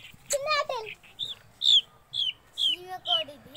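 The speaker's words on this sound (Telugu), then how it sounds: "ఇప్పుడు మేము బ్లాక్ కోడిని తీయబోతున్నాం." A black chicken clucking close by in a series of short, sharp, high calls, one after another, with a voice mixed in among them.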